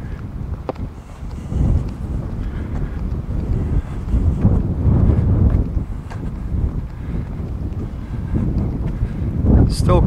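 Strong wind blows steadily beside railway tracks on a cold, windy day, a constant loud rumble of gusts buffeting the microphone with no other distinct sounds.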